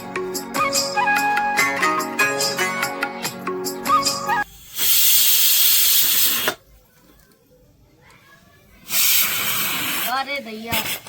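Steam hisses from a pot of cooking rice in two loud, sustained bursts, each lasting a couple of seconds and separated by quiet. Music plays before the first burst.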